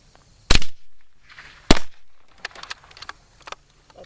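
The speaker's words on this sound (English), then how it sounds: "Ain't nothing like shooting a 22." Two sharp, loud .22 rifle shots from a short-barreled gun ring out about a second apart outdoors, each with a brief decaying echo, followed by lighter scattered clicks and knocks.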